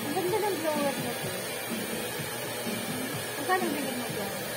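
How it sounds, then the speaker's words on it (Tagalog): Steady whoosh of a hair dryer blowing during a beauty session, running continuously under people talking nearby. "Ang ganda ng blower nito"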